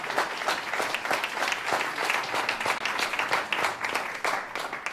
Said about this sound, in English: Can we give ourselves a round of applause for coming here today?